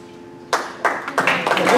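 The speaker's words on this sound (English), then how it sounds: "One more round of applause." Applause breaking out at a school board of education meeting honoring students, starting with a few scattered claps and building into denser clapping from the audience.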